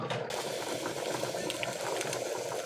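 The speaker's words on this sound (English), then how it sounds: "Our rice and dal is still boiling." A pot of rice and dal boiling steadily, giving a continuous close bubbling roar with no pauses.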